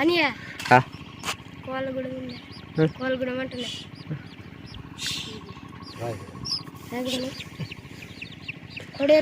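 Roosters and hens cluck and squawk repeatedly nearby on a river bank while people talk over them outdoors.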